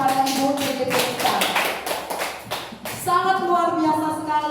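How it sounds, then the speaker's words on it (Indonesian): At an Indonesian teachers' online sharing forum, a burst of dense hand clapping rises in the middle between stretches of a voice, the claps moderately loud and close. "Kita berikan dulu tepuk tangan yang meriah kepada Ibu CGP kita."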